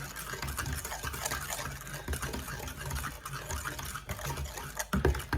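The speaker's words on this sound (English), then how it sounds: "that's stirred together well enough" A spoon stirs pumpkin roll batter in a bowl, soft wet scraping and sloshing in uneven strokes, close and moderately quiet with a few louder knocks near the end.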